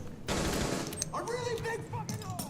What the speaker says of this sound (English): he tries to take some shots, but unfortunately can't land those critical headshots